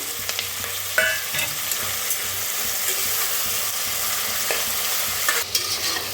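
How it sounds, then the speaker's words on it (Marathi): Tomatoes fry and sizzle in a pan with steady stirring scrapes, a continuous close hiss with occasional clinks of the spoon against the pan. "आता टमाटर मी भाजून घेऊया"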